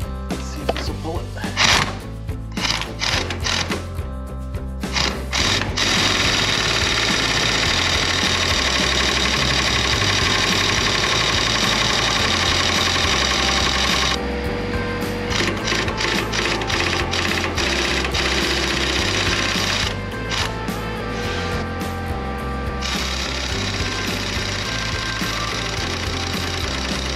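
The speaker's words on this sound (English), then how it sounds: "we had to break out the pneumatic gun and the black sockets" Pneumatic impact gun with black impact sockets working on bolts during a suspension drop job, giving a loud, sustained buzzing hammer that runs almost continuously with brief stuttering bursts near the start and middle.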